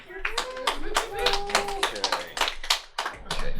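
Scattered claps ring out from a live comedy show crowd, distinct irregular hand claps rather than a full roar, with voices talking over them and a sustained tone partway through.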